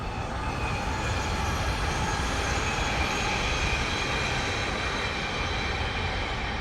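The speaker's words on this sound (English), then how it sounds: "Oh, here comes the train." A train rolls past outdoors as a steady, broad rumble and rush with faint wheel squeal, sustained at an even moderate level throughout with no talking.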